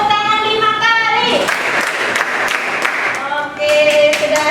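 A classroom group claps in a short burst of several sharp hand claps, with voices heard before and after.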